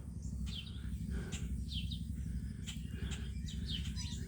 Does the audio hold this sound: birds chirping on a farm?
yes